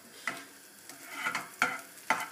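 Butter in a small hot Teflon pan gives off a quiet, faint sizzle, broken by four soft scraping strokes spaced irregularly about half a second apart.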